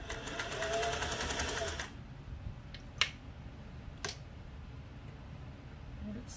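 A Singer 401A sewing machine runs in a steady, dense whir of rapid stitching for about two seconds, then stops, leaving quiet room tone broken by two sharp clicks.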